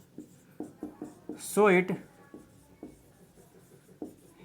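Rapid strokes of writing on a board tap and scratch in a steady rhythm, pausing briefly while a voice speaks before the scratching resumes.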